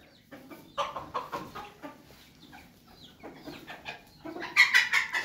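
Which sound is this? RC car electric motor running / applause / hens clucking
hens clucking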